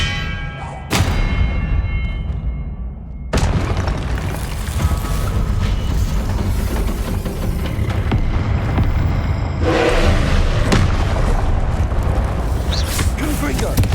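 Spell blasts from Confringo and Expelliarmus go off in Hogwarts Legacy as loud booming bursts with heavy rumbling impacts, mixed with game effects and spoken incantations throughout.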